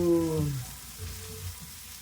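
Ginger, garlic and onion fry to golden brown in a pan, giving a soft steady sizzle at low volume with no voices over it.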